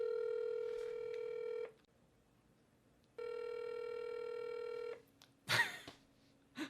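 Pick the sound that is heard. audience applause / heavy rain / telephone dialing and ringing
telephone dialing and ringing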